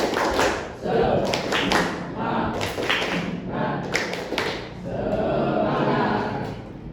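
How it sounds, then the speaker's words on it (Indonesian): A classroom of students performs tepuk semangat, a rhythmic group clap, in quick bursts of sharp claps separated by short pauses, mixed with voices. "Tepuk semangat dulu. Tepuk semangat."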